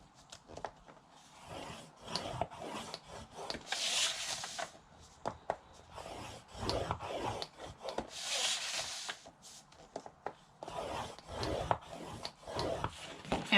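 Prima paper being scored on a scoring board, a steady scraping rub that repeats in strokes along the sheet, close and fairly loud with short pauses between passes.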